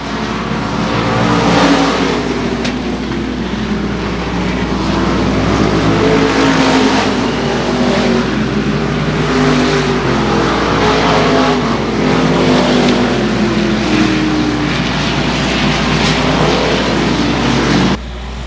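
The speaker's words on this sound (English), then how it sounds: "We're green flag racing, here we go!" Race cars roar around the 281 Speedway oval under green flag racing, a dense, continuous engine drone with rising and falling revs as the pack passes, loud and steady throughout with no talk.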